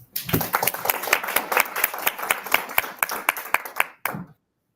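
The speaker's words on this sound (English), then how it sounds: "Please give them a round of applause." A modest audience at a local Republican party meeting claps for veterans, with distinct, individual hand claps clearly audible in a brisk, uneven patter that stops abruptly after about four seconds.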